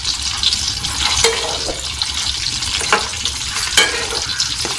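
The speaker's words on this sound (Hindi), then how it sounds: "ये देखें जी, ये हम इनको फ्राई कर रहे हैं।" Bitter gourds frying in hot oil in a pan, a steady loud sizzle with bubbling and crackling that continues throughout, punctuated by a few brief clinks and stirring sounds.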